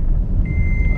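A car's seatbelt warning chime sounds as a thin, steady high-pitched tone over the low rumble of the vehicle and wind, beginning partway through the clip.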